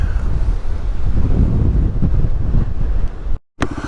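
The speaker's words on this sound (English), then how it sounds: "Windy." Strong wind blasts across the microphone during a Yamaha WR250R motorcycle ride in North Routt, a heavy, low roar that surges and buffets, cutting out briefly near the end.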